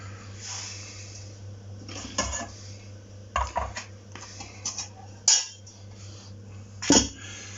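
A new, unheated pan is lifted and set down in a kitchen while piccalilli is being made, producing a few sharp metallic clanks and knocks separated by quieter handling noise and brief breathing.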